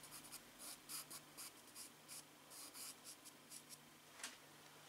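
A pencil scratches across paper over soft pastel in a seascape drawing. Short, quiet strokes come in an uneven rhythm of bursts, very close and alone against a faint steady hum.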